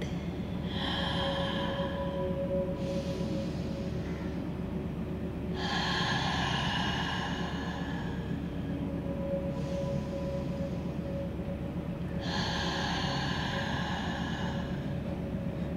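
Forceful active breathing during a dynamic yoga movement for burnout: strong breath bursts repeat every few seconds over a steady low background hum.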